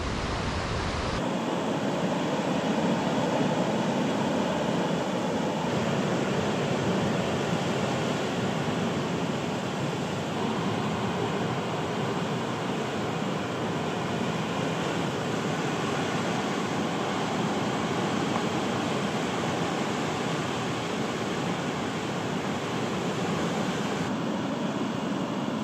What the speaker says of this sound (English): it's just these big waves pounding in on the rocks